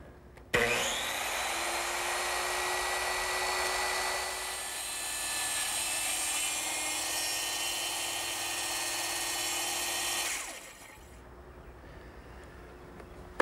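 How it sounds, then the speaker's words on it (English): A small circular saw makes a plunge cut along a straight clamped edge in wood, giving one steady loud whine of about ten seconds before the blade stops and the noise falls away to quiet. "I'm going to make a plunge cut, which means I'm going to lower the blade through the work and carefully go along the line"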